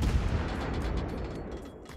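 The Tier IX American cruiser USS Buffalo fires its naval guns in a World of Warships ranked game, a heavy booming volley that rumbles and fades over about two seconds, no speech.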